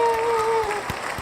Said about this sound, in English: It's the crowd applause for me, man